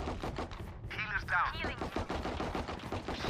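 Rapid gunfire in the tactical shooter game Valorant, with dense, close bursts of shots in quick succession and a brief whooshing ability sound in the middle, under a fast game mix.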